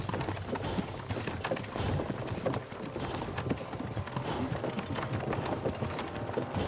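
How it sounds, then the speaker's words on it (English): Steady clip-clop of horse hooves trotting in Kingdom Come: Deliverance II at a regular rhythm, close and continuous, with soft ambient noise underneath and no talking. "it was like our horse does not sound well"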